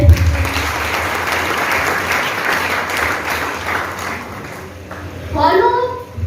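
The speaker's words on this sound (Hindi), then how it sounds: "भाई जोरदार ताली होनी चाहिए" Loud, sustained applause from an audience at a business training session in a large Patna venue, steady clapping for several seconds that tapers off near the end.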